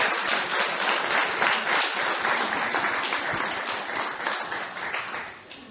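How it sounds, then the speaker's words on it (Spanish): A church congregation applauds steadily together for several seconds, a dense, even clapping that fades slightly at the end. "Denle un aplauso al Rey y dígale gracias, Dios."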